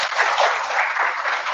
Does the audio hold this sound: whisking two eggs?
no